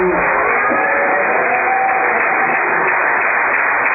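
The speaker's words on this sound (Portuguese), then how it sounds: "E bate palma e agora Jesus." A church congregation claps together in a dense, steady wash of applause that stays loud and even from start to finish.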